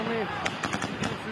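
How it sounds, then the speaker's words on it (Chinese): Street protest in Kazakhstan with rapid bursts of gunfire and explosions, a quick cluster of sharp cracks layered over a news voice talking throughout. "道路顶一直传来爆炸的声音甲枪声"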